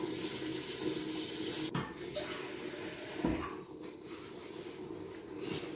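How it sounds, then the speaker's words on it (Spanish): Water pours into a pressure cooker in a home kitchen, a steady splashing stream with a few clanks of the pot, fairly close and continuous. "le pongo agua, un poquito de agua."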